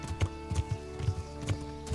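Horse hooves clip-clop in a steady, uneven trot in the video game Kingdom Come: Deliverance, fairly close, with a faint sustained tone humming underneath.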